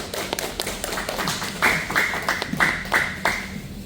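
A small audience at a talk show on emergency first aid claps for an incoming presenter, a thin patter of scattered handclaps, close and moderately loud, with a few sharper claps standing out.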